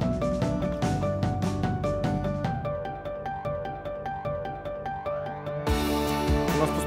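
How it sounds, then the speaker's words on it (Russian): Incoming-call ringtone from the Bitrix24 CRM: a bright, looping electronic melody plays steadily throughout, with a brief louder change near the end, and no talking over it. "У нас поступил даже входящий звонок."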